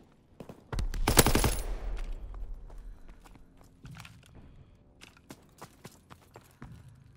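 Automatic weapon fire rattles through a Call of Duty: WWII battle, a loud dense burst early on, then scattered shots and footsteps fading into lighter sporadic firing.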